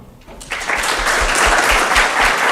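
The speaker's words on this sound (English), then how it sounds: "Everyone, please, another applause for Milan." A conference audience at the BalCCon2k23 hacker event bursts into applause for a speaker after the talk. Clapping rises sharply after a brief quiet moment and stays full and close to the end.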